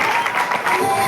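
Brief burst of audience clapping at a Hindi-speaking live event, fairly loud and dense, with crowd murmur and voices mixed in.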